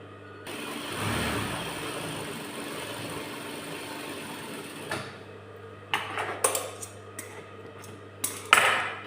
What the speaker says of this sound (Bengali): আচ্ছা সেলাইটা করলাম এটা হচ্ছে উপর পাশের সেলাই